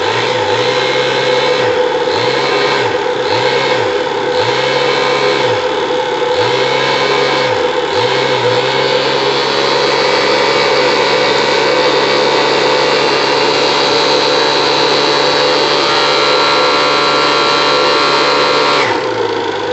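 Gas burner roaring steadily as it heats the double-flow boiler of a live-steam speedboat, a loud, continuous rushing drone with repeated pulsing surges early on, close by, no speech.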